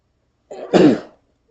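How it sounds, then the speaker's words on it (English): A single short sneeze into a respirator, close and loud, an abrupt burst lasting under a second, with silence before and after. "I feel like I need to sneeze."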